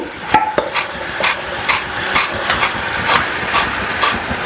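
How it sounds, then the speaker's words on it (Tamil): Crisp fried seedai, a small crunchy festival snack, drop into a bowl with sharp rattling clicks and patters, close and fairly loud, a run of scattered hits over faint background noise. "இப்போ நான் கிண்ணத்தில் போடுறேன், சவுண்டு பார்க்கலாம்"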